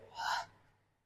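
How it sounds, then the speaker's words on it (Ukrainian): A single deep breath taken during a pregnancy exercise workout, a brief airy rush of breath close by, standing alone. "Дихаємо три рази."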